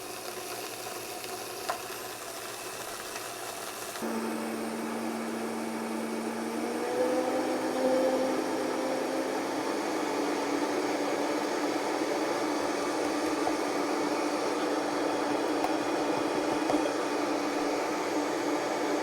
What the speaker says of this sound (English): It mills grains as fine as flour, and it is just an excellent way to grind something up like this.